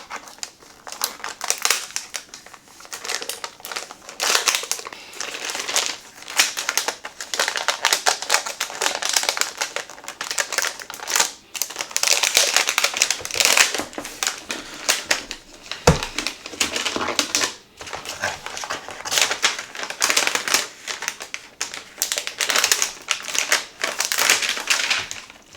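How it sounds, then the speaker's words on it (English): A gaming laptop is pulled free of its plastic wrapping, with loud, continuous crinkling and rustling of plastic close by, broken by brief pauses and a few taps. "So we gotta take it out of the plastic here."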